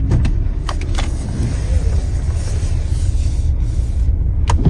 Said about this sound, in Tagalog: It's a 32 minutes drive.